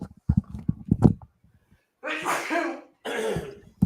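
Two sharp sneezes in a row, close and loud, follow a few soft breathy sounds, heard during a live broadcast of a Strickland versus Magomedov fight.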